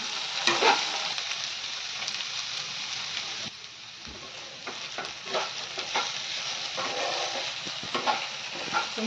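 Okra pieces frying on a medium flame in a pan, a continuous close sizzle with intermittent scraping and clinks of a spoon stirring them now and then.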